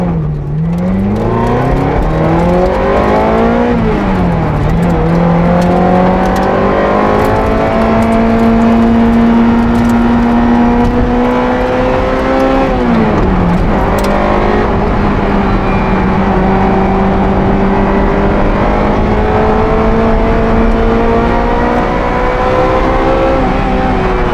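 A Ferrari F355 Challenge race car driven on an open public road, its engine loud and close as it revs up through the gears with rising whine, drops on a shift, then climbs again and holds a high steady drone throughout.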